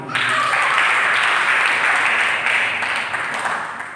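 Sustained applause from a church congregation during a Sunday sermon, a dense steady wash of clapping filling the room for several seconds before tapering slightly.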